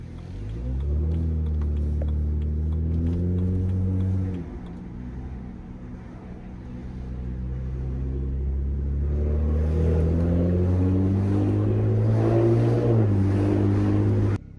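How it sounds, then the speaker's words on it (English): A BMW 335i N54 engine drones with a deep, raspy exhaust tone through a muffler delete and 4-inch tips, dipping briefly then building louder as it revs up under acceleration. "I have a muffler delete in it with the 4-inch exhaust tips."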